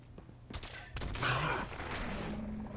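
A quick cluster of loud, close gunshots cracks out in Fallout 4 inside Cambridge Polymer Labs, two or three bursts in under a second that fade into a lingering rumble.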